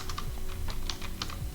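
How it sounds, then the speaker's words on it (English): A file name being typed on a computer keyboard, a short burst of rapid, close key taps over a steady background hum. "then we need to type"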